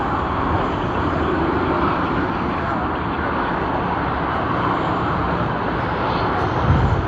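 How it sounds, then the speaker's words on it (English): A jet airliner taxis at Sydney Airport with a loud, steady broadband engine roar and hiss that holds close and constant throughout, with no pauses. "Just got video bombed by the taxiing aircraft."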